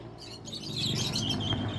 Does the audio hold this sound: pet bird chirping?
yes